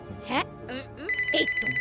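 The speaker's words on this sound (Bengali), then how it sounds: "এই তো রিং হচ্ছে" A telephone rings with a steady electronic tone, preceded by short melodic chirps of a ringtone, heard close and clear.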